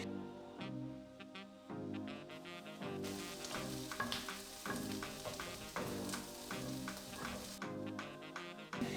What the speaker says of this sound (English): Make sure to keep stirring so the onions don't burn.